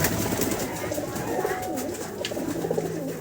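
Several pigeons coo softly and repeatedly in low, throaty bursts, close by amid faint background noise.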